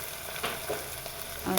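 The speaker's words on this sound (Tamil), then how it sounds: "நல்லா வதக்கிட்டு ஒரு 2 மினிட்ஸ் விட்டுருங்க." Food sautés in a frying pan with a steady, close sizzle, with a few soft stirring scrapes through the brief stretch and no voices.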